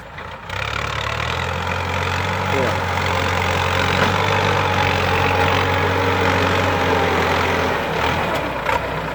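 A Ford 6610 farm tractor idles close by with a steady, low diesel rumble. It runs unchanged for about nine seconds after a short start.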